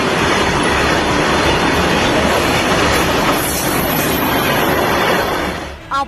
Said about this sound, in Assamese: ৰেল লাইনত তীব্ৰ গতিত চলা এই ৰেলগাড়ীখনলৈ মন কৰক